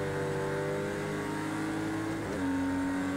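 Porsche Cayman race car engine roaring steadily at high revs during a race in Project CARS 2, with a brief shift in pitch near the end as the car runs close alongside another Cayman.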